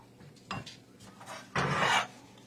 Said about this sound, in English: we're going to brush this on top of the biscuits